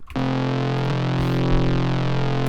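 A sustained, buzzy Serum synth bass tone layering two sawtooth waves, one and two octaves down, with a thick, detuned edge, holding one low note steadily throughout, loud and alone.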